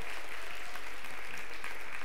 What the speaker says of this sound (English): Can we just give Michael a round of applause?